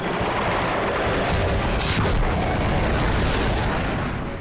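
A missile launch in a sci-fi TV episode, heard as a loud, dense, continuous roar of blast and rumble filling the whole stretch, with no talk over it.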